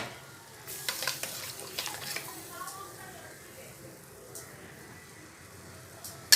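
Beaten egg is stirred into egg kothu parotta frying in a pan, with a soft sizzle under repeated scraping and stirring strokes and occasional sharp clinks of a utensil against the pan.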